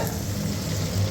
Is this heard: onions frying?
yes